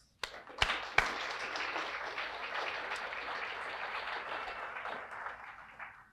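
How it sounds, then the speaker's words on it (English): An audience at a sports and recreation Hall of Fame induction ceremony breaks into applause, starting with a few sharp claps before building into steady clapping that slowly tapers off over about six seconds. "I think they deserve a round of applause"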